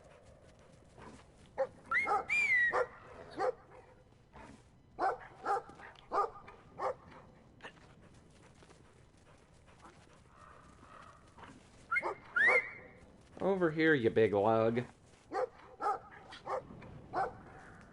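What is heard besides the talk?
dog barking in the video game Brothers: A Tale of Two Sons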